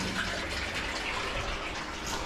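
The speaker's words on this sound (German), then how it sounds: "Jetzt hört man das gute Geräusch, wie das Wasser rauscht." Steady rushing water pouring through a drain pipe in a blocked, blackened basement drainage system, a continuous close broadband gush with no pauses.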